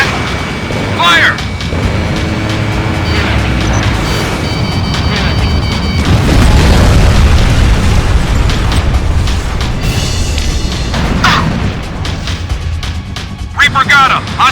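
A hostile fighter jet is shot down in the aerial combat game Ace Combat Infinity, its explosion booming loudly amid sustained roaring game noise, with radio chatter voices speaking over the blast.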